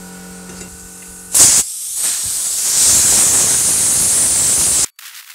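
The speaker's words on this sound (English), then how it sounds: "it'll be interesting to see how the blaster handles this" A bead blaster hisses loudly and continuously while cleaning the valley pan cover from a BMW E31 850i. The blast starts with a short burst, then runs for about three seconds and cuts off abruptly over a faint background hum.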